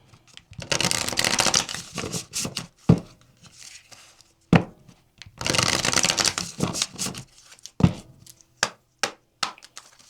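Tarot cards being shuffled by hand in repeated riffling bursts, each ending in a sharp tap as the deck is squared, close and fairly quiet, with no talking.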